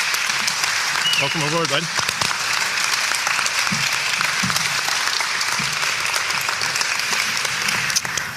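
A crowd applauds steadily to welcome the new Knoxville Ice Bears head coach, sustained clapping that fills the room, with a voice speaking briefly over it.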